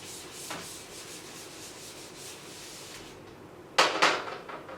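A board is rubbed clean with steady, faint scratchy strokes, followed near the end by a louder, rougher burst of erasing close by.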